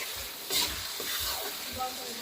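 Four small tomatoes hit browned, salted onions frying in a pan, raising a steady close sizzle with soft stirring scrapes throughout.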